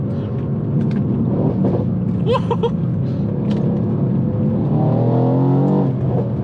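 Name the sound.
sports car engine accelerating and shifting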